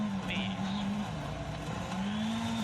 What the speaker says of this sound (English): That drifting's crazy.